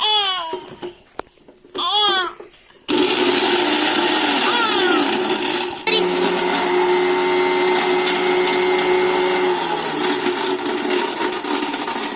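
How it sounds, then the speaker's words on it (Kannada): A mixer grinder grinds chilies and onion into a spicy masala paste, its loud, steady motor whir running continuously for most of the stretch after a few short bursts of speech and noise. "ಈಗ ಮೆಣಸು ಇವು ಉಳ್ಳಾಗಡ್ಡಿ ರುಬ್ಕೋತಾನೆ ನೋಡಿ"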